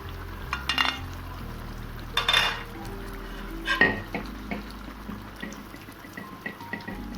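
A spoon scraping and clinking against a pan while gatte ki sabzi cooks, a few irregular metallic scrapes and knocks over a low sizzle, close and without talk.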